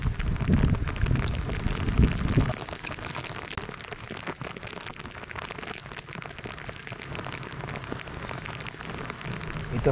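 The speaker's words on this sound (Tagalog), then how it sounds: "ganito kalakas ng ulan" Heavy rain pours down steadily, a dense rushing hiss with a louder, rumbling stretch at the start before settling into a constant downpour.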